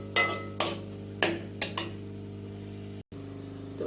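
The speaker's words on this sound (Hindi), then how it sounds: "इसको पहले थोड़ी देर इलायची को भी फ्राई करते हैं" Whole cardamom pods fry in a pan for sweet seviyan, with several sharp metal clinks of a spoon stirring against the pan over a faint, steady sizzle.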